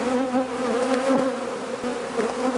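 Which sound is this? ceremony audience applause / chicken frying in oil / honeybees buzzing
honeybees buzzing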